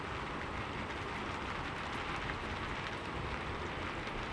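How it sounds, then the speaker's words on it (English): Gentle rain falling outside, a steady broadband hiss that runs evenly and continuously throughout at a soft level, with no voices. "Outside, the rain continued its gentle symphony"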